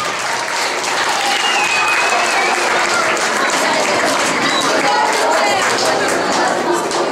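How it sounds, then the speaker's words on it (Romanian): Dense, loud applause from an audience at a dance school's educational show fills the whole stretch without pause, with some crowd voices mixed in beneath the clapping. "Eu cred că merită aplauze Felicia și Pușa."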